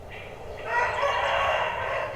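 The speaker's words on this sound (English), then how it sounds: "Now we are going to hear our famous friend, the rooster." A neighbor's rooster crowing once outdoors, a loud drawn-out call rising and holding for over a second, fairly near.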